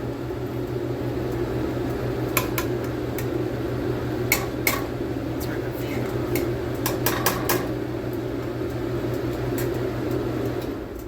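Strawberry jam is stirred in a pot on a smoking burner, with repeated clicks and scrapes of a utensil against metal over a steady hum from a nearby fan.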